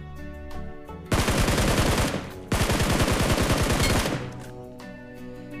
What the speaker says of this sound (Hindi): बंदे को यहाँ पे मैं दो बुलेट मारा